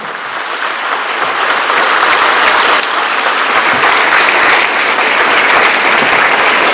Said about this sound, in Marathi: हात वर करून जोरात टाळ्या वाजवा.